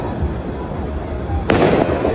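Fireworks burst overhead at a fireworks show in Aldershot, England, with a rumbling crackle that swells into a sharp, loud burst partway through, and faint voices beneath.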